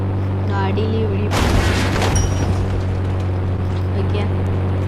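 Firecrackers bursting under a car in the mobile game Indian Bike Driving 3D, a sudden loud blast with a rumbling tail over a steady game engine hum, with a second softer burst shortly after.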